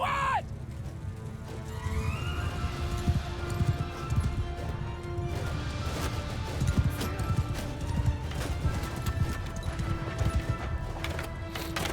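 Galloping horse hooves in the Mount & Blade II Bannerlord medieval battle game, a steady clip-clop rhythm under loud ongoing battle noise with clashing and occasional whinnies.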